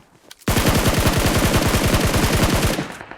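A loud, rapid burst of automatic gunfire in the mobile battle royale game PUBG Mobile lasts about two seconds after a short quiet start, with no talk over it.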